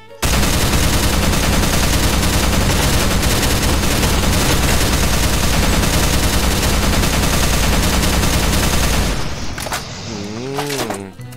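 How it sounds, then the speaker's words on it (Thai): Rapid, continuous automatic gunfire in a Minecraft game, loud and dense for about nine seconds before cutting off, followed by a voice talking at the end. "ผมให้เลยประมาณ 6 เต็มที่ก็10แม็กอ่ะยิงไปเลย"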